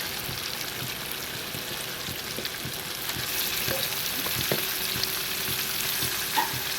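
Chicken pieces, about a kilogram for a red chicken curry, drop into hot oil after the spice paste has browned and sizzle steadily in the pan, with intermittent clicks and stirring scrapes throughout; no voices.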